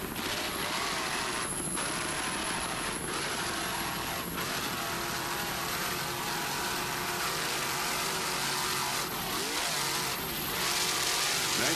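Offshore racing powerboat engine roaring steadily at Point Pleasant Beach, New Jersey, in the 1998 Offshore Grand Prix, loud and continuous with throttle swells and no talk.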